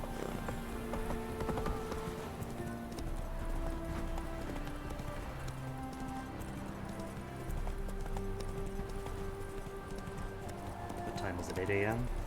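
Roach, Geralt's horse in The Witcher 3, trots and gallops with steady clip-clopping hooves under continuous game music and talking voices throughout.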